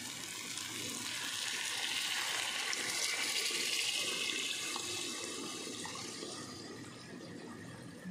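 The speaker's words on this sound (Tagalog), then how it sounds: "Yan, lagyan ko na siya ng tubig ngayon." Water pours steadily into a cooking pot while salona laham, a meat stew, is being prepared, giving a continuous close rushing splash that lasts throughout with no talking.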